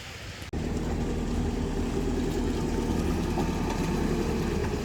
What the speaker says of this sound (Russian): Работает техника, убирают последствия вчерашнего ливня.